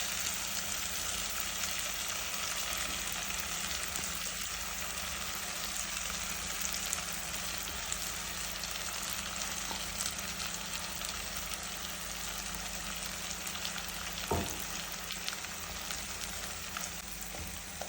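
Ground coconut paste frying in an oiled pan with mustard seeds, cumin, softened onion and mashed tomato, giving a steady, close sizzle that runs unbroken throughout with no voices.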